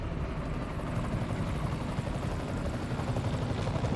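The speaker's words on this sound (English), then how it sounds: "That's a helicopter." A helicopter's rotor thumps steadily with a broad engine roar in Marvel's Spider-Man Remastered, loud and continuous throughout, with no voices over it.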